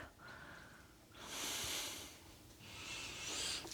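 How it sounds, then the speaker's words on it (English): One deep breath taken while seated during a yoga flow: a long, airy inhale followed by a slower audible exhale, close and soft, with no speech. "Take one round of breath"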